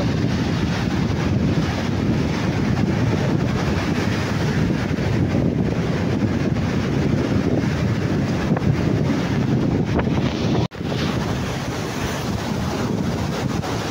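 Strong sea waves surge against the shore under heavy, steady wind buffeting the microphone, a loud continuous roar with one brief dropout near the end.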